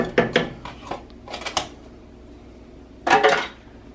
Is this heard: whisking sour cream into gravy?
yes